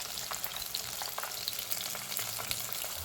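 Onion rings frying in oil in a pan, giving a steady, close sizzle with faint stirring sounds and no talking.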